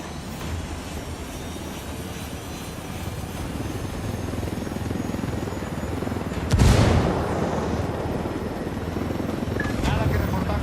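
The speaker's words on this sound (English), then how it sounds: "Let's take these choppers out." Military helicopters in Ghost Recon Wildlands, set in Bolivia, give a steady low rotor rumble throughout, with a loud boom burst near the middle, while voices talk over the noise.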